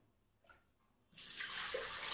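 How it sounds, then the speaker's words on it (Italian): Tap water splashes steadily into the mixing bowl of a Monsieur Cuisine Connect kitchen machine while pizza dough is being prepared. A faint knock comes first, then a continuous, fairly close pouring hiss that lasts about a second. "Come prima cosa andiamo a mettere nel boccale l'acqua"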